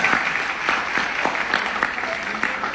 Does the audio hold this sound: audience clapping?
yes